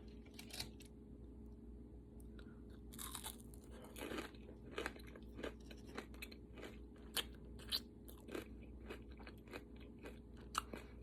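Chewing and crunching while tasting food made with peanut butter powder, a steady series of soft bites close to the mic over low background hum, with no talking.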